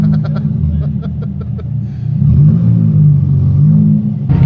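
A 2007 Ford Fiesta ST 150 engine idles with a low throbbing rumble, then rises in a short rev and settles, heard close with some clatter at the start and a sharp noise at the very end.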